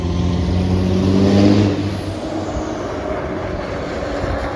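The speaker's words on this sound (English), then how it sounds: "as soon as I start the video, a loud vehicle would come by" A loud vehicle rolls past on a street outside the First Baptist Church in Martin, its engine swelling close by in the first two seconds, then fading into a steady rumble as it moves away.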